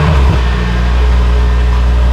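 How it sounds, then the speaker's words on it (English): An Audi RS3 with a modified exhaust, valve open, fires up from a cold start: a loud, deep engine roar with a brief surge at the start before settling into a heavy, steady drone. "let's get our first cold start and see what this car sounds like"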